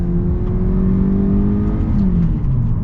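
A 2024 Hyundai Elantra Limited accelerating hard, heard from inside the cabin as a loud, steady engine drone whose pitch climbs and then dips briefly around a gear change, with no talking.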